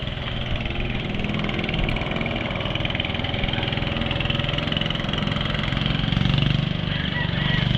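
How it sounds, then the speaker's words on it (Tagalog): Motor engines running near a bridge over floodwater, a continuous mid-pitched droning hum that stays steady and fairly close, with no voices over it. "Ayan mga motor"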